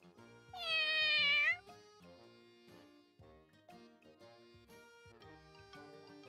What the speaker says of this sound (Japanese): この猫